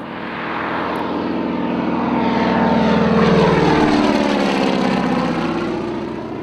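A de Havilland DHC-2 Beaver propeller plane passes slow and low overhead, its droning engine and airscrew buzz swelling to a loud peak and then easing off, with no voices.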